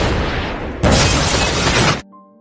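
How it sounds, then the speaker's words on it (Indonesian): A suitcase bomb goes off in a film scene, a loud dense blast that swells into a sustained roaring burst before cutting out abruptly to a quiet tonal hum. "Frank yakin ledakan itu berasal dari koper yang diberikan bos gangster itu."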